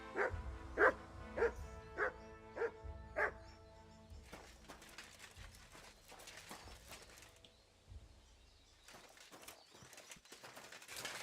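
A dog barks in Kingdom Come: Deliverance II, a run of six evenly spaced, fairly close barks, followed by softer clattering and scuffling.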